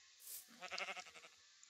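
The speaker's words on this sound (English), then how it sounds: "Is that a pink sheep?" A sheep in Minecraft (FTB modpack) gives one wavering, harmonic bleat of about a second, quiet and heard alone.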